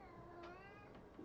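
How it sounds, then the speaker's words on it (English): A house cat meows quietly, two or three short, plaintive calls in close succession. "He doesn't like the other cat, and she must have been nearby."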